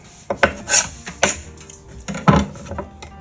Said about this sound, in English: Let's cut this off. So a little piece of meat right there. Cut that, trim it up real good. Clean that pork chop.